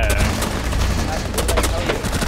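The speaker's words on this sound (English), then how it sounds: "I couldn't hear that over the gunfire." Gunfire in Rainbow Six Siege rattles in dense, sustained bursts with sharp cracks over a constant din, while players talk over it.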